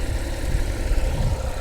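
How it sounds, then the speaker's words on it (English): A Porsche 911 Carrera S 997.2 coupe's rear engine idles steadily, a low continuous rumble with a slight rhythmic pulse, close by and unchanging throughout. "engine purring away."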